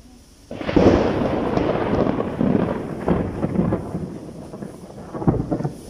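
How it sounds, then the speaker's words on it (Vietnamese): Rolling thunder rumbles loud and close as rain moves in over a mountain area with monkeys, a long sustained roar with swelling peaks over several seconds, no voices. "Trời đang chuyển mưa các bạn ơi, sấm chớp ghê quá."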